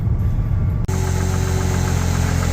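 A Ford 300 inline-six engine idles smoothly and steadily, a close, even low mechanical hum with a brief dropout near the start and no voices.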